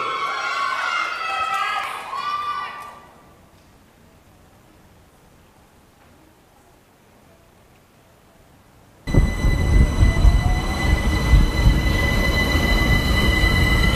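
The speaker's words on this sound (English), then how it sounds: "A lighted train grinds from still to moving." After some singing and a long quiet stretch, a train suddenly grinds loudly into motion, wheels squealing with a harsh metallic whine close by.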